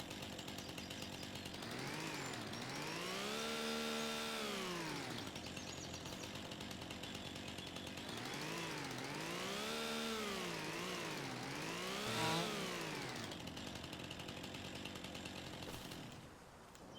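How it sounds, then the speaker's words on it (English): A homestead sawmill cuts through tree logs with a loud mechanical whine that rises and falls in long sweeps as the blade bites and eases, running steadily and fairly near. "I'm going to start cutting trees into the sawmill here."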